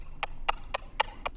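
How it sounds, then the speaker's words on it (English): Clock ticking in an even, quick pulse of five crisp clicks, close and dry over a faint low hum, with no voice. "This is a clock sound."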